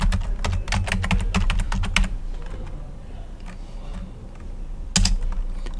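Fast typing on a computer keyboard while editing in vi, with dense close clicking that thins out midway and then resumes with a sharp burst of keystrokes.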